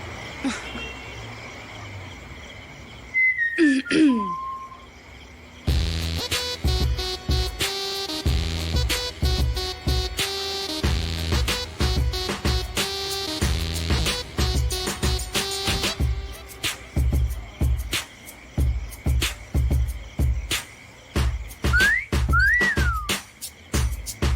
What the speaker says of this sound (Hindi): इसको सीटियां बजानी है